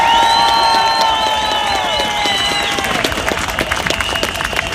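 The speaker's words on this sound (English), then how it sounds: "Give them all a round of applause." Crowd at a Working People's Day of Action rally applauding and cheering loudly, with whistles and shouts at first, then dense clapping continuing close and strong.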